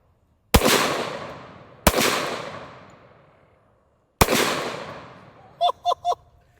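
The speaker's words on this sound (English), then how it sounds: "let's see if we can make it through the rest of this mag" An AR-15 fed black powder ammunition fires three loud, sharp shots with long decaying tails, spaced irregularly over a few seconds, followed by three short, tonal, honk-like bursts in quick succession.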